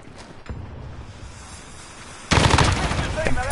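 Gunfire in the Modern Warfare video game, a few distant shots followed by a loud burst of rapid automatic fire near the end, with game ambience underneath.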